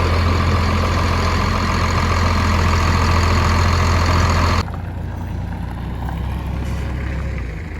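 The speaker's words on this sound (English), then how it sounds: "They're hooking up the grain cart to the 4955, which is a tractor we've been using for some groundwork." A 4955 tractor engine runs steadily at close range with a loud, deep drone while a grain cart is hooked up, then the sound drops abruptly to a quieter, lower idle.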